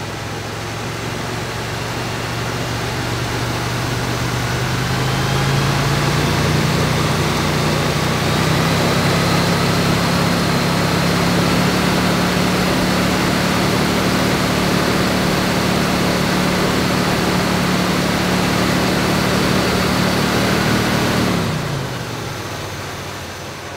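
A 1965 Chevrolet Impala engine runs steadily, its low drone holding then rising slightly in pitch, continuous and close, before cutting off abruptly near the end.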